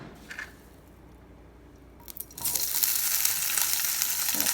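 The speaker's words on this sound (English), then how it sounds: "So you can see how I've got the Spam all diced up. So this is what I'm going to be sauteing right now." Diced Spam for pork fried rice hits a hot pan: quiet handling and a couple of taps first, then a sudden loud sizzle that builds and holds steady to the end.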